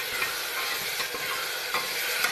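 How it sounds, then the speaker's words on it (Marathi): Vegetables frying with spices in a pan, giving a steady close sizzle with soft, irregular scrapes of stirring throughout, with no talking. "आता हलवून घेऊ आपण मस्तपैकी चला आता आपण मस्तपैकी फ्राय करून घेऊ आपण हे सगळं"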